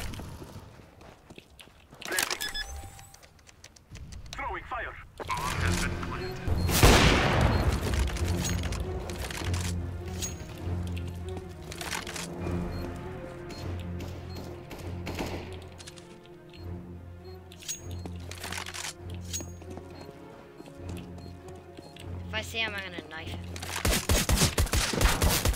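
Gunfire bursts in the video game CS:GO, with rapid shots and sharp cracks over steady game music and effects, and players talk excitedly throughout.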